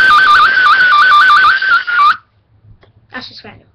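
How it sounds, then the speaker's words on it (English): A whistle played as a melody, a shrill tune stepping quickly between two pitches for about two seconds, loud and close, followed by brief quieter sounds. "number four, make a song with a whistle"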